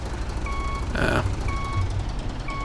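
A truck backing up to park a trailer in the farming game Professional Farmer 2014, its reversing alarm beeping steadily at a regular pace over a low engine hum, with a brief burst of noise between beeps.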